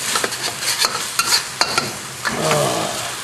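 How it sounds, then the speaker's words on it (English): Lemongrass stirred and frying in sambal paste in a hot pan, a steady sizzle broken by short scraping stirs and light clinks of a utensil, close and fairly loud with no voices. "I add some lemongrass, and I'm going to cook that until the lemongrass is fragrant."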